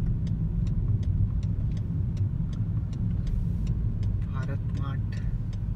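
A car driven on a road toward Haldwani produces a constant low engine and road rumble from inside the cabin, with a regular ticking like an indicator and a brief voice near the end.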